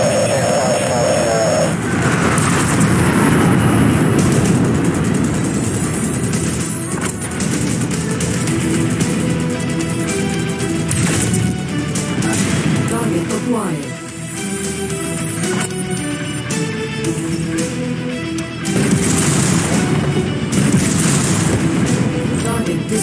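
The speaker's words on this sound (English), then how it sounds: "Commencing bomb run now." Aircraft bombing run in the MechWarrior 5 video game, with dense, continuous rumbling booms and explosions layered over a roaring engine drone, loud throughout with mechanical clanks and brief dips, plus game voices under the din.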